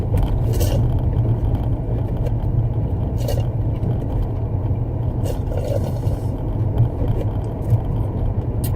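A car drives along a road with a steady, low interior rumble of tires and engine, plus occasional light scrapes and thumps, close and continuous without speech.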